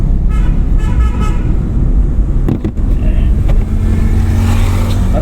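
A car horn sounds several short toots over loud, rumbling engine and road noise close by, inside a driving school car.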